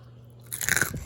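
A single crisp bite into a crunchy fish sauce chicken nugget coated in rice flour, a short close crunch with a few chewing crackles after a quiet moment.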